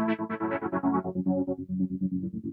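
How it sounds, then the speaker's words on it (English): Synthesizer tone with stereo detune doubling its oscillators, producing a wobbly, chorused pulsing sound whose rapid fluttering note stream drifts downward and fades slightly, played alone without speech. "So when I turn on Stereo Detune,"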